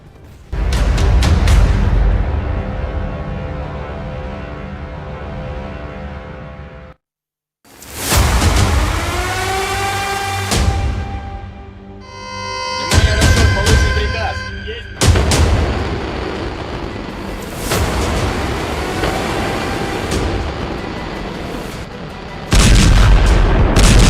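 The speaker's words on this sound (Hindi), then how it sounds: "इंटरकॉन्टिनेंटल मिसाइल का धमाका ऐसा होता है।" Massive intercontinental missile explosions thunder one after another, deep rolling booms with crackling blasts and long rumbling tails, broken by a brief silence.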